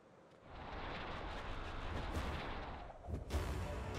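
An artillery barrage in the game Eagle Island builds into a sustained roaring rumble of blasts, with a louder burst of impacts near the end, heavy and continuous, no voices.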